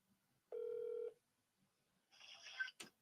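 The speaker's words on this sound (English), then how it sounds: "Let's see if she's going to pick up the phone." A telephone call being placed, with a steady dial tone followed by a burst of keypad tones and a short ringing trill, fairly quiet and with no talking.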